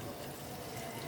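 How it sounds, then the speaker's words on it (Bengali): Water pours into a spice mix of chili, turmeric, coriander, cumin and salt for beef rezala, a brief soft splashing rush, faint and alone. "দিয়ে দেবো পানি"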